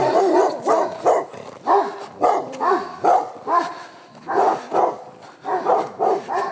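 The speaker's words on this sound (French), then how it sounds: "Il y a des chiens de partout." Several dogs barking repeatedly in a rural countryside setting near walnut and ash trees, a steady run of loud, close barks with short gaps throughout.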